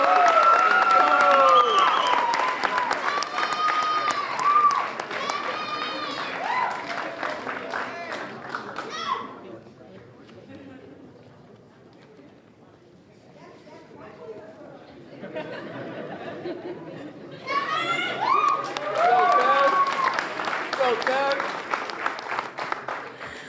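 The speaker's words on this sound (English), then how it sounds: "let's keep that applause going" Audience at a business award ceremony claps and cheers loudly, fades to scattered claps and murmuring chatter midway, then swells again into full applause, with voices mixed in throughout.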